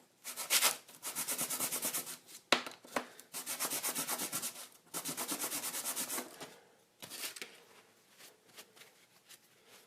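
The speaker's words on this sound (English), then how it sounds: "just going to use some 500 grit for this just to get those tiny fibers off" Repeated strokes of 500-grit sandpaper hand-rubbing a wooden fidget spinner, several bursts of steady back-and-forth scratching with short pauses between, close and moderately quiet.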